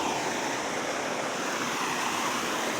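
A waterfall on a farm roars in a dense, steady rush of falling water, loud and close throughout with no voices.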